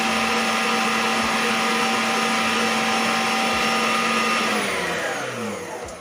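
An electric mixer whips cream with sugar and cocoa at low speed, giving a loud steady whir with a constant motor hum that fades near the end.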